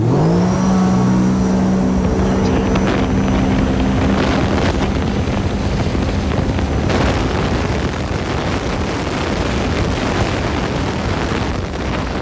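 A Sea-Doo RXT-X 300 jet ski accelerates hard over a quarter mile, its engine climbing from a rising whine into a loud, steady roar under heavy wind buffeting on the microphone, with no talking.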